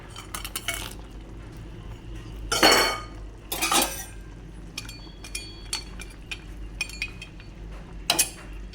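Fried lentil dumplings going into a pot of cauliflower curry, with metal utensil clinks, a few louder scraping clatters and intermittent taps close by, no talking.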